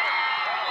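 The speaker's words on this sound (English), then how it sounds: "You hear the crowd." A stadium crowd roars during the final play of the 2003 Empire Football League championship game between the Glens Falls Greenjackets and the Watertown Red & Black, a sustained, dense wall of cheering for under a second.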